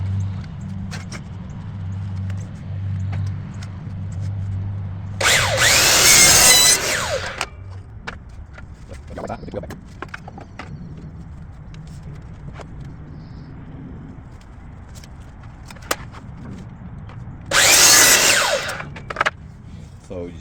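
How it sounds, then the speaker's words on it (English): A power tool cuts crown molding pieces for kitchen cabinets in two loud bursts of a couple of seconds each, well apart, with quieter workshop handling and low hum between them. "So we're going to cut all pieces now."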